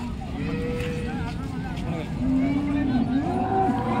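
A cow in her third lactation moos in long, low drawn-out calls close by while a person talks over it at the Modnimb cattle market.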